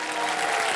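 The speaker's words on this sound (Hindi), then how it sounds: "घूम के इधर आएंगे तो ताली बजेगी" A studio audience on a quiz show set applauds, a dense burst of clapping from many hands, sustained and fairly loud through a brief moment.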